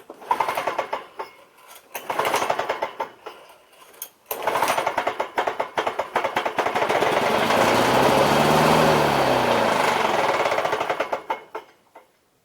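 Lawn-Boy C21ZSN commercial walk-behind mower with a worn pull rope, yanked several times, then the two-stroke engine catches and runs with a buzzing, rising whine for several seconds before dying, close by.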